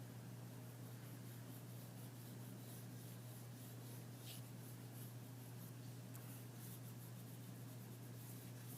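Steady, soft scratching of a coloring pencil or pastel worked across paper, a continuous close rubbing with slight rhythmic strokes over a constant low hum.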